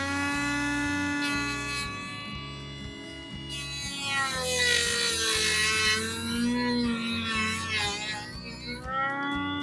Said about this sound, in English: So we are left with utilizing the Dremel.